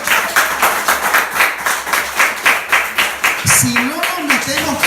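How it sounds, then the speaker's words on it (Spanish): Crowd applause and clapping at a church service rolls steadily throughout, with a voice speaking over it toward the end. "Denle un aplauso a Dios."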